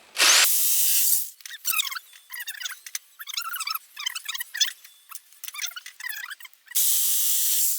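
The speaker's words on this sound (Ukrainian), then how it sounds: "беремо лобзик і відпилюємо там, де нам потрібно відпилюємо" A jigsaw whines loudly at the start and end, with bursts of rapid chattering cutting through wood in between, close and harsh.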